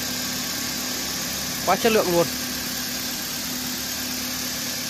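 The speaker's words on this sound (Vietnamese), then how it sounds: "các bác nghe này, tiếng máy động cơ này" An imported family car's engine idles with a smooth, steady low hum. Someone talks briefly over it.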